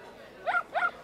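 A dog gives two short, sharp barks in quick succession, close and clear, while being taught to eat properly at a Christmas meal.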